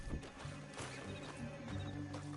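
Horse sounds from the video game Red Dead Redemption 2, with heavy hooves clopping at a steady walking rhythm and a brief whinny, fairly close and loud, over a low rumbling ambient bed.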